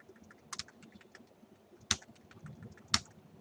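Computer keyboard keys being typed while writing C code, a few sharp isolated clicks spaced about a second apart over a faint low background, no talking.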